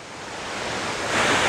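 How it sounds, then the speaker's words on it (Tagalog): The Bumbungan River in Laguna spills down from a roadway in a steady, loud, broadband rush of water that swells slightly toward the end, with no voices. "Ito yung tubig na rumaragasa pababa mula doon sa kalsada na nanggagaling doon sa Bumbungan River."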